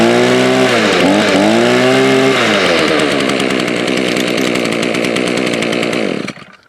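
Gas-powered grass trimmer with a brush cutter attachment revved hard, a loud, close, buzzing two-stroke whine that rises and dips before holding high and then cutting off abruptly.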